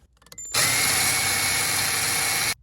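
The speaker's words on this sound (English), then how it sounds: "And a quick little drill." A handheld power drill runs in one continuous burst of roughly two seconds while fastening small Christmas-tree retainer clips to a subwoofer grill, loud and close, preceded by a few faint clicks and ending abruptly.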